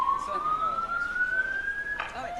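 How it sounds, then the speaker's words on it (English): A fire alarm sounds in a conference hall with a rising electronic tone that sweeps slowly upward and then cuts off and resets, moderately loud above the room's background murmur. "Is that a fire alarm? Yeah, that's a fire alarm."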